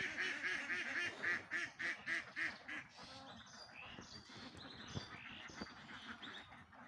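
A flock of ducks on a duck farm of about 232 birds quacks in a quick rhythmic run of loud calls, then settles into a looser, mixed chorus of quacks and fowl calls with no talking.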